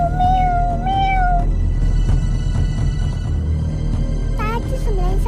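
A cat meows several times, clear and close, with drawn-out rising calls at the start and near the end while people talk over a low hum.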